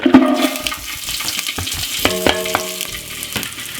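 Garlic cloves and spring onion hitting olive oil in a pan for Jamaican curry chicken, with a steady sizzle and frying crackle, a few sharp clacks and stirring scrapes partway through, and no talking.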